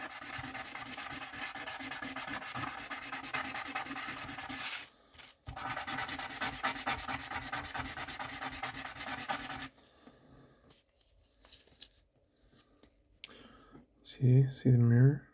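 Steady close rasping of 600-grit sandpaper rubbing over stone for several seconds, pausing briefly, then quieter scraping before a short voice at the end.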